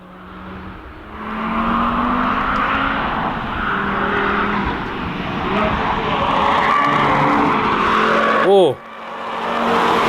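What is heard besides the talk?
Audi RS3 tires squealing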